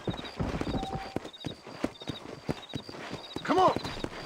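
Horse hooves clip-clopping at a quick rhythmic pace in the Western video game Red Dead Redemption, with a whinny near the end, under a voice speaking and gear clinking.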